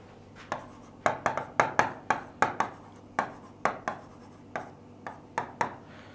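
Chalk or marker taps and scrapes across a board during a maths lesson, a quick irregular series of sharp strokes, close and fairly clear with no talking.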